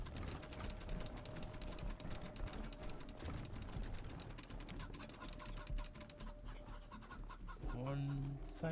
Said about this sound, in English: Where's my other cyborg chicken?